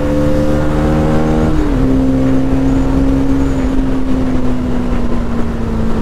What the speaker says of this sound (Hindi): और भाई एग्जॉस्ट साउंड सुनो आप इसका जरा